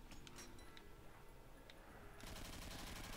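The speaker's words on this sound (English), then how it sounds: "Oh, the M60 sounds amazing." A custom M60 machine gun firing in a Call of Duty zombies custom map, rapid sustained bursts that swell into dense continuous fire in the final second, fairly faint in the game mix.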